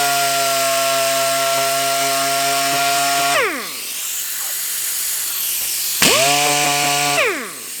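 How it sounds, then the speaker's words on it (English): A power sander grinds a deep scratch out of a plastic panel, running at a steady high whine that winds down, pauses, then spins up again and slows once more. The sound is loud and close, with no talking. "when you turn the sander at an angle like that, it eats a lot more plastic"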